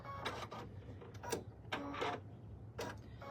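A home sewing machine stitches vinyl for an in-the-hoop puff foam bag, its thread breaking and the stitching going wrong, heard as several short bursts of mechanical whirring separated by pauses over a low steady hum.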